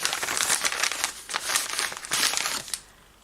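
A Christmas gift box from a book subscription is unwrapped, with loud, continuous paper crinkling and tearing in close bursts for about three seconds before it falls quiet.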